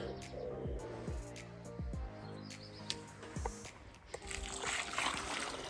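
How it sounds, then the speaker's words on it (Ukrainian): Water splashes and trickles onto soil around a newly planted magnolia or rhododendron, pouring steadily, while birds chirp in the background. "Поливаємо водичкою."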